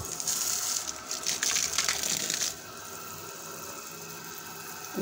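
Water gushing hard from a DC 12V solar water pump, a loud rushing splash for the first half that drops to a steadier, quieter flow.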